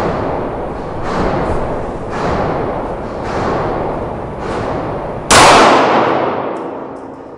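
A 9mm round is fired into LP SmartSide siding: a single loud, close crack with a lingering decay, preceded by several softer whooshing bursts of noise outdoors.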